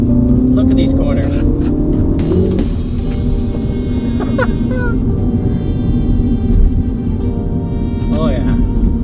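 A 2019 MINI Cooper JCW hot hatch drives hard through the gears, its engine droning loud and close with rising and falling pitch as it shifts up and down.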